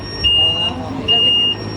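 A car alarm sounds two short, high electronic chirps a little under a second apart, fairly loud over a faint background of voices.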